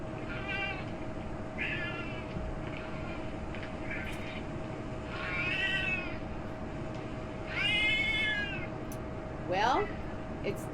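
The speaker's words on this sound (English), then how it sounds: "it's time for the caterwaul." A cat caterwauls in a series of drawn-out, rising meows and yowls that grow louder toward the end, finishing with a sharp, sliding cry over a constant low hum.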